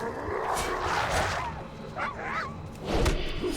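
A small dog in World of Warcraft yips and barks a few times in quick bursts, set among busy game sounds and effects at moderate loudness.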